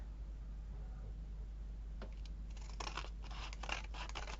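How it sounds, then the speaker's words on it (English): Scissors trim craft material in a burst of short, close snips and scratchy cuts that starts after a quiet stretch, over a low steady hum. "I'll trim this off."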